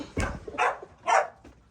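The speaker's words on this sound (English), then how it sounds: "Sorry about the barking, you guys." A dog barks three times in quick succession, close and sharp, followed by a softer fourth yip.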